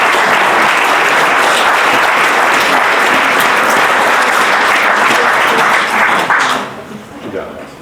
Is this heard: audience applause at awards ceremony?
yes